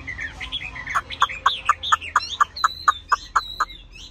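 Chinese hwamei songbird calling up close, loud and clear, a quick series of about a dozen sharp, evenly spaced whistled notes over higher warbling trills, with no talk.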